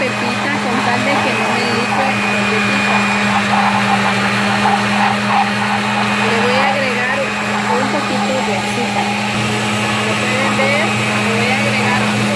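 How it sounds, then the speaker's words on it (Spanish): An electric kitchen blender running as it blends watermelon and pineapple, a loud steady motor whine with a constant hum that continues for the whole twelve seconds. "Voy a prender la licuadora en este momento."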